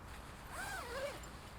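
The center zip of a medium-weight British Army sleeping bag is drawn in one smooth, rising-then-falling zipping stroke, close but fairly quiet over steady background hiss.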